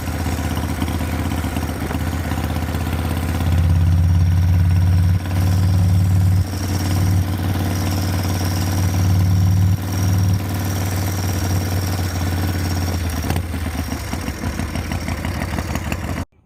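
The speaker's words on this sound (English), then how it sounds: "Bike's got so much power, and it's barely got the throttle open" Mickey Rourke's original 1987 Harley-Davidson FXR idles steadily and loud up close, a deep throbbing V-twin rumble with slight throttle swells and no voices.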